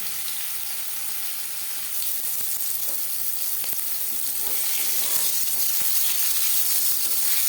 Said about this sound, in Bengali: মাছ একটা সাইড ভাজা হয়ে গেলে অপর সাইডটা উল্টে দেবো